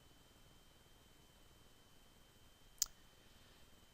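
A single sharp mouse click on a computer, pressing the publish button in WordPress, sounds once, close and crisp, against faint steady background hiss.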